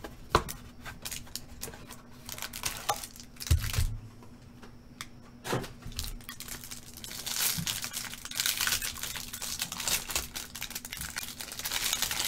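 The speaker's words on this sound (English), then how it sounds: "It's a hard plastic wrap. It's like cellophane." Stiff Mylar plastic wrap on a hanger pack of 2019-20 Chronicles basketball trading cards is crinkled and torn up close, with irregular crackling bursts, sharper snaps and brief quiet gaps.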